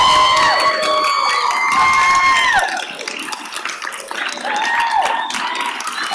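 Audience at a city council meeting on police reforms in Memphis, with a loud, dense crowd reaction of cheering and clapping that fills the whole stretch and dips slightly midway before swelling again.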